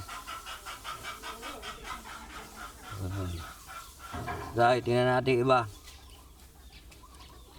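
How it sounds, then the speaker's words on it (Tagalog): Fighting cocks cluck nearby on a farm in Bautista, Pangasinan, with a loud rising call near the middle, while someone speaks quietly in the background. "ito naman yung kanyang mga manok. Ayan, yung mga manok, mga panabong yata ito"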